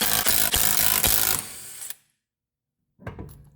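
Loud mechanical rattling and whirring from a tool on a socket while a rear wheel comes off a 2018 Lexus ES 350, a dense burst that fades into silence before a short clank returns at the end.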